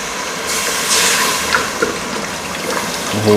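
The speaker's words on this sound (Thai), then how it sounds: "แล้วก็จากนั้นนะครับให้ใส่ น้ำเปล่าลงไปนะครับ" Plain water pours into a pot for braising pork leg, a loud continuous rushing splash that rises and swells, with a few clinks of the pot.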